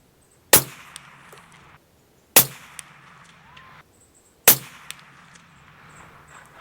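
Three loud, sharp shots from a SAKO M10 sniper rifle firing Hornady ammunition, evenly spaced about two seconds apart, each a close crack with a brief ringing tail, with faint outdoor quiet between.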